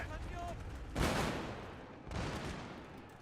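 Two booming musket volleys from infantry in the Shogun 2: Total War video game crash out about a second apart over a steady bed of battle noise, each a dense burst of many shots fading into rumble.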